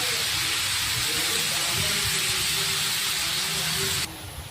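Onions steaming and hissing in a pan make a loud, steady, close hiss. It drops off abruptly near the end.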